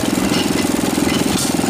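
An antique flywheel engine runs loud and close with a steady, rapid mechanical chugging throughout.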